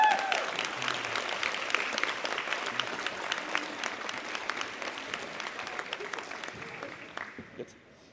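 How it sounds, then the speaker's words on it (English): Applause for three female strongwoman athletes at a Natural Strongman Worlds press conference, a steady clapping crowd that gradually thins and fades toward the end, with some voices talking underneath. "can we get a round of applause for 3 ladies?"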